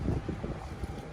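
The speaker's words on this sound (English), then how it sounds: "it's getting windy, guys. It's getting cold and windy." Gusty wind blowing outdoors in New York City during the 2022 marathon, a steady low rumble of wind buffeting the microphone with no talking.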